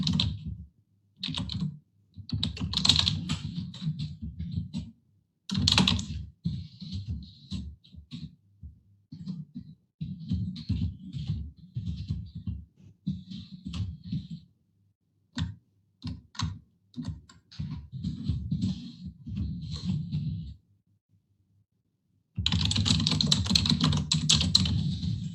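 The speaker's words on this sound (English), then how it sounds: "No, I'm just typing, guys. You can hear me typing." Computer keyboard typing in quick bursts of clicks with short pauses, close and clear, during an online group session with no talking.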